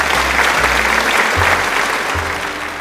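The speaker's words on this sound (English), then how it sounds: "A big round of applause for Master Chef Lou, and to our special guests." An audience gives a big round of applause for a master chef and special guests on a cooking show, a dense, continuous burst of many hands clapping with a low hum beneath.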